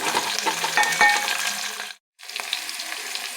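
Onions, green chilies and curry leaves frying with mustard seeds in a hot pan while a spoon stirs them, a close crackling sizzle with scraping strokes, broken by a brief silent gap partway through.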